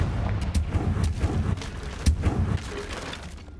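Confringo fire spell blasts in Hogwarts Legacy, a rapid series of sharp explosive bursts and booms with crackling debris, fairly loud and close, fading out at the end.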